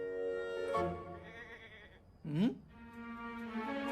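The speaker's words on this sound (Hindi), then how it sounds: "बकरा तो बकरी की ही आवाज पे आएगा ना" A goat bleats once in a cartoon, a short wavering cry rising and falling over a steady tonal background of voices or music.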